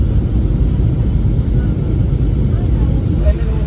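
Inside a passenger airplane cabin during landing, a steady, loud, low roar of engines and airflow fills the whole stretch, with faint voices beneath it.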